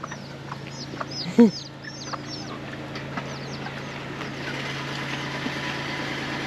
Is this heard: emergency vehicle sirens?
no